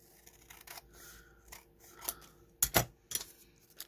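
Scissors cutting paper for a tag booklet, a few crisp close snips spaced irregularly, the loudest pair near the end, over a quiet room.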